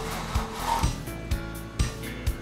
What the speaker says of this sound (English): Lower the blind.